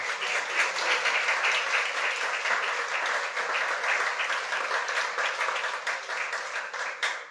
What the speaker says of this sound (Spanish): Si le va a dar ese aplauso, déle ese aplauso.